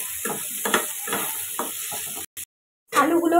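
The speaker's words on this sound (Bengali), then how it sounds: "ওই মাছ ভাজার প্যানে আমি আলু আর সজনে ডাঁটাটা ভালো করে আমি ভেজে নেব।" Potato and drumstick pieces fry with turmeric and salt in a fish-frying pan, sizzling close by with rhythmic stirring scrapes. The sound cuts out briefly before the frying noise returns.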